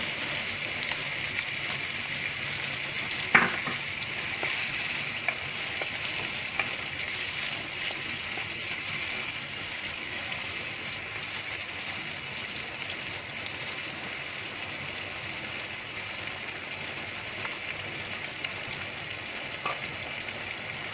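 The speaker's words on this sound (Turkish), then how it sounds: "Şimdi içine rendelenmiş domatesimizi ilave ediyorum." Grated tomato sizzles in a pan with leeks in olive oil, a continuous even frying hiss heard close up, with an occasional soft knock of a spoon or pan.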